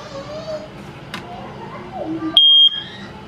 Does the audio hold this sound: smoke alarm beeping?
yes